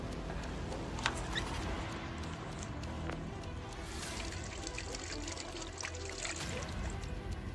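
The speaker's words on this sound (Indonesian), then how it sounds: "Cuci tangan dulu." Hands are washed under a running tap, a steady close splash and trickle of water that continues without break.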